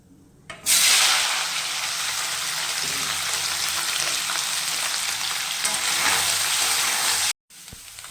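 Soybean chunks drop into hot oil tempered with whole spices and dried red chillies, setting off a loud, steady frying hiss up close that runs for several seconds and cuts off abruptly near the end.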